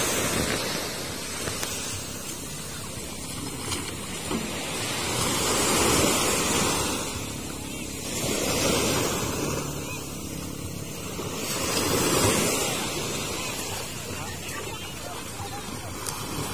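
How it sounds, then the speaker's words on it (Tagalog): Big ocean waves surge and crash in long rolling swells, a loud roaring wash of surf with heavy wind buffeting the microphone, rising and falling over several seconds. "Ayan ang malaking alon."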